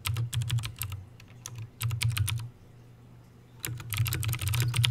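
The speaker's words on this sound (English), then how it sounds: "I'm typing with people." Rapid clicking keystrokes on a computer keyboard in quick bursts, with a brief lull in the middle before the typing resumes, close and clear over a low steady background hum.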